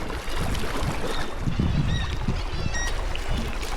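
Sea kayak paddled through a sea cave, with splashing paddle strokes and water sloshing under a steady echoing wash of surf, plus faint high bird-like calls.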